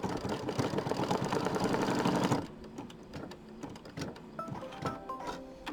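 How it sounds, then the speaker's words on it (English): Embroidery machine stitching a tack-down line on a hooped haunted-house design runs in a fast steady whir, then stops, leaving quieter clicks and handling noises. "Then we're going to just stitch over that"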